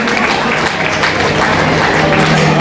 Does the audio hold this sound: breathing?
no